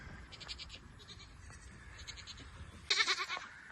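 Goats bleating on a farm near an open gate, a few faint bleats early on, then one louder, nearer bleat toward the end over quiet outdoor background.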